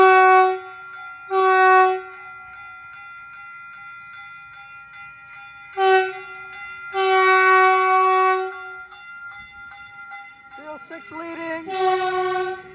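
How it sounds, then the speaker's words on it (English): A Caltrain 428 southbound limited-stop passenger train near San Francisco's 4th and King station sounds its multi-tone horn in several loud blasts, some short and some held for over a second, with quieter gaps between them. "there goes Caltrain 428"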